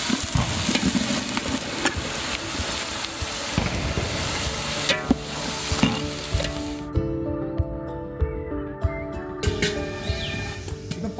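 Cut eggplant and raw plantain pieces sizzle and crackle steadily in a frying pan, with stirring scrapes throughout.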